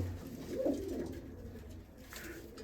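Pigeons kept and bred by a fancier give soft, low cooing, a short swell of calls early on that settles into a faint, steady murmur of cooing and ambient noise, with no voices.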